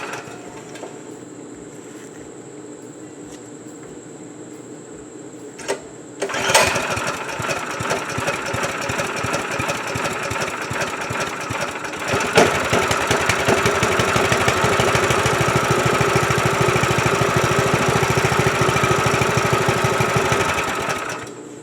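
DR stump grinder petrol engine, first a faint idle, then a sudden catch into a loud, rapidly chugging run that rises again to a harsher, fuller roar and holds steady close by.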